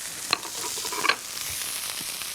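Food fries in a pan with a steady bright sizzle, broken by a few sharp crackles and pops and occasional stirring, with no voices.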